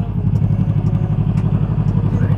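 A manual-clutch motorcycle engine running steadily at a close, loud idle, with a rapid even low-pitched thrum and faint mechanical clatter throughout.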